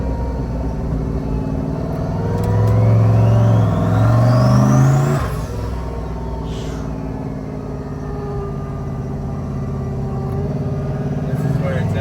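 A Jeep Trackhawk with a 426 engine and Hydra boost revs up loud and close, a heavy groaning rumble that swells, holds, then drops back to a steady idle drone while people talk over it.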